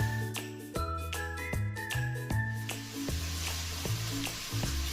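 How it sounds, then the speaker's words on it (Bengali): Onions sizzling as they fry in a pan with a pinch of salt, a soft continuous hiss that stays mostly under loud melodic background music with repeated ringing notes. "পেঁয়াজটা ভাজার সময় আমি অল্প একটু নুন দিয়ে দেবো"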